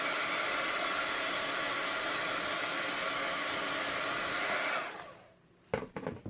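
A hair dryer blowing steadily and loudly on an art journal page inked with distress inks, a constant roaring whoosh that cuts off near the end, followed by a few small handling clicks.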